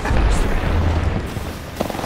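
A heavy explosion in a video game booms loudly and fills the whole moment with dense, rumbling noise, then tapers slightly.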